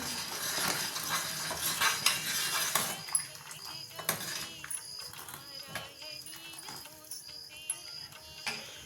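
Moong dal soup is stirred in a pot, with a utensil clinking and scraping against the metal in irregular taps and light rattles, close up and fairly quiet.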